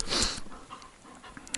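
A dog pants with quick, snorting breaths close by outdoors near a forest hut in spruce woods, a short burst of heavy breathing that fades to softer puffs.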